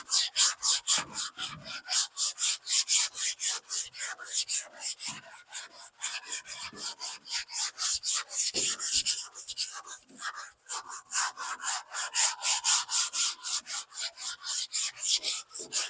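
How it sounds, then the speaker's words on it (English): A long sanding block fitted with 120-grit paper rasps back and forth across the guide-coated body of a 1962 Impala, in steady, even strokes about two per second, close and alone. "I'll just get the sanding."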